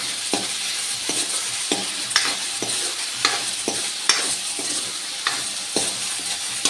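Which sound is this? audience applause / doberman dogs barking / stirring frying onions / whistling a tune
stirring frying onions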